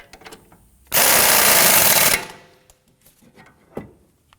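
A power tool buzzes loud and close for about a second as it tightens the nut on a 2003-2014 Volvo XC90 front strut and spring assembly, followed by faint clinks and handling noises.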